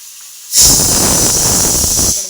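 A pressure cooker vents steam in a loud, steady hiss lasting under two seconds while a tomato and cashew masala cooks inside, starting abruptly after a short quiet moment and then fading.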